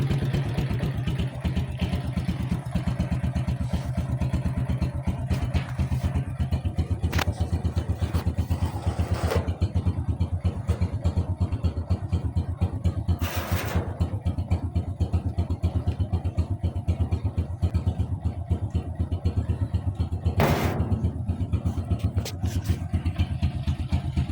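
A motorcycle engine idles steadily while warming up before work on a noisy, ticking cam chain tensioner, a close, even rapid putter throughout with occasional sharp clicks and clatter over it.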